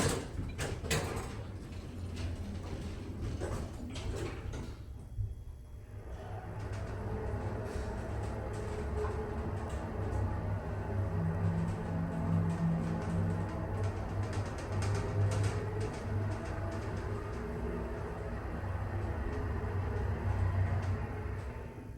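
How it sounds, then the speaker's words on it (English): A Kone hydraulic elevator at NRG Center in Houston, Texas, its doors sliding shut early on, then a steady low motor hum and drone running continuously, close and even in level. "I want to hear that motor one more time."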